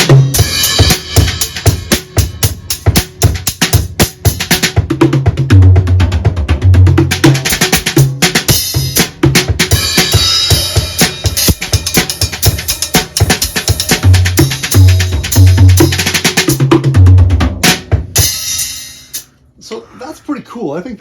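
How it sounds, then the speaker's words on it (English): Acoustic drum kit fitted with Evans dB One low-volume heads and cymbals, no triggers. A busy groove of dense kick, snare and cymbal hits runs continuously and fairly loud, then stops abruptly near the end, with some speech under the playing. "So here's the sound of the kit with no triggers on."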